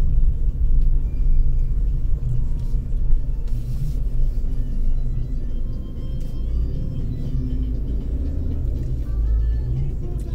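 Street traffic with cars passing, a steady low rumble of engines and road noise nearby, continuous without pauses and with no talking.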